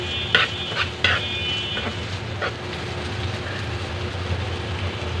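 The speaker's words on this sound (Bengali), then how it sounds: "এবার এটাকে আমি ঘন ঘন নাড়াচাড়া করে নিব" A spoon scrapes and stirs a mash of dried pangas fish shutki in a pan, with a few sharp scrapes at the start and then a low, steady sizzle.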